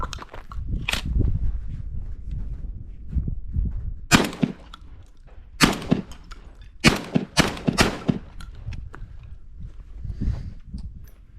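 A Citadel Bosshog 20-inch gas-driven shotgun fires outdoors in a string of loud, sharp blasts spaced irregularly, some in quick pairs, with clanks of handling and shuffling between shots.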